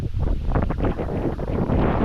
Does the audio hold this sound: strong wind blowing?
yes